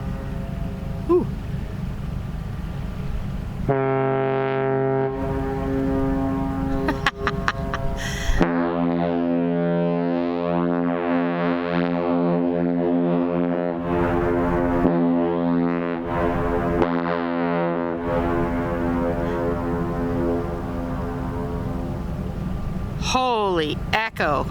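Whistles of the lake freighter Paul R Tregurtha on the St. Mary's River, long deep horn blasts that ring out and echo back across the water, with someone talking excitedly between and over them.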